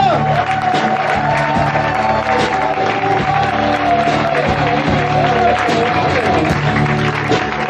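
Loud crowd noise with applause, cheers and whoops over sustained music, filling the whole stretch without letup.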